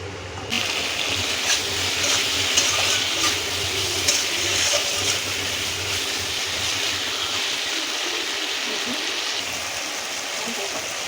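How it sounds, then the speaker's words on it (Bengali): Water pours into a pot of mango and salt for aamsol, a steady close gushing splash that starts abruptly and runs on evenly before easing slightly toward the end. "চারশো গ্রামের মতো জল দিছি।"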